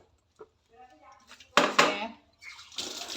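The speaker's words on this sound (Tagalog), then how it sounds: "bumalik na ang daloy ng tubig" Water gushes from a tap while someone washes up at a sink, arriving in loud splashing bursts after a quiet stretch with a faint voice, then running on steadily.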